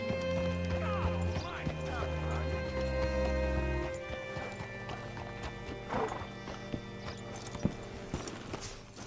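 Horse hooves clip-clop steadily over a layered musical and ambient backdrop in Red Dead Redemption 2, with a horse whinnying and a voice speaking briefly.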